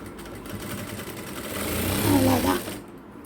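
A sewing machine stitches the folded neck of a blouse, a steady close mechanical whirr that swells and then stops, with a voice speaking over it.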